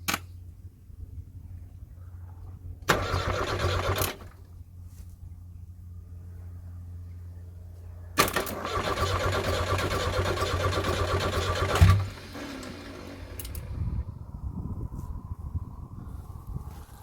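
A van's engine is cranked in bursts, grinding and whirring for a second or two and then several seconds, before catching and running with an uneven rumble toward the end.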